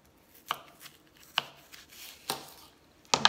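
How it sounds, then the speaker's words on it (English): A knife chops asparagus on a board, giving four sharp, close cuts spaced about a second apart, with the last a quick double strike. "asparagus, maybe cut that in half."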